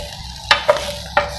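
Paneer frying in a pan with a steady sizzle, broken by three sharp tossing clatters spaced through the short stretch; close and fairly loud, no talking.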